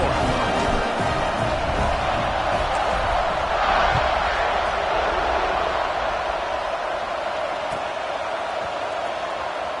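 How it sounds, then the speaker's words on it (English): A football stadium crowd keeps up a steady, loud roar and buzz just after a score, with a broad wash of massed voices and brief swells. The noise stays dense throughout and no single voice stands out. "this crowd is buzzing after that last score"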